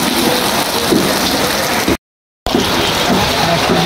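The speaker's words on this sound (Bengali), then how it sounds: "এই তো বৃষ্টি শুরু হয়ে গেছে।" Rain begins falling at a Friday beef market in Namajgarh bazar, a loud, continuous rushing downpour with a faint rumble, cut by a short silent break partway through.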